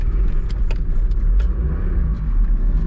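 A motorcycle engine, kick-started moments before, idles steadily with a low, even rumble and faint clicks and rattles throughout, heard close and alone.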